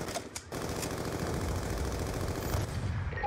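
Repeated gunfire in Call of Duty: Black Ops II as snipers fire from an overpass, a dense, steady crackle of shots and impacts filling the scene with a sharp burst near the start.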